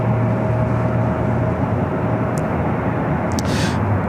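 Lufthansa Airbus A350-900 from Munich arriving at LAX, heard as a continuous loud low jet roar with steady rumble throughout, a few brief faint clicks near the end, no talk.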